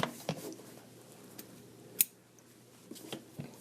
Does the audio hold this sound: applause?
no